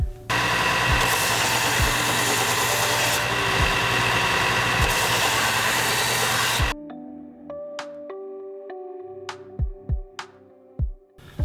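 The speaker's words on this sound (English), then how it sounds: "I've got the corners and the edges all rounded over on the belt sander." Belt sander rounding the edges and corners of a wooden mallet: a loud, steady sanding whir for several seconds that cuts off abruptly, followed by scattered knocks and handling clatter in a quiet room.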